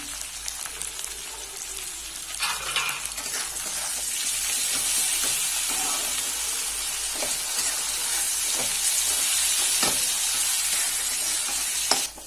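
Puti fish curry with ginger-garlic paste, chopped tomato and salt being stirred in a pan, a continuous close sizzle with irregular scraping and clinking strokes and no voices.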